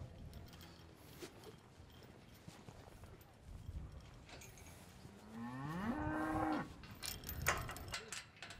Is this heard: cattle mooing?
yes